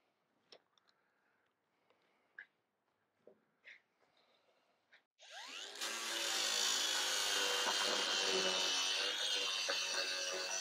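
A power tool cuts into metal on the door of a 1968 VW custom car, starting abruptly after some scattered ticks and light handling clicks, then whining loud, harsh and steady until the end.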